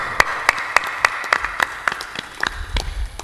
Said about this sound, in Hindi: आपकी ताली ऐसे है लगता है उसकी जान निकल गई।